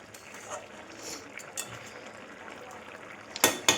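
A vegetable curry cooks in a pot on the stove, with a faint low sizzle and occasional soft stirring and clinks of a spoon against metal, ending in a couple of louder scrapes.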